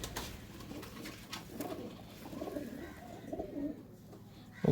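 Soft, repeated cooing from a loft pigeon, fairly faint and close, continuing steadily against a low background hum, with no voices.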